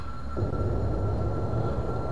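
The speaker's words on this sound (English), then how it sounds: "let's try and get our engines back up" Jet engines on a plane in Kerbal Space Program spool back up after a flameout, with a steady mechanical drone and a high whine that swell together, loud and continuous with no voices.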